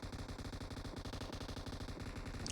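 Sustained rapid automatic gunfire from the mobile battle-royale game PUBG Mobile, a dense loud stream of shots fired continuously without pause, with no voices over it.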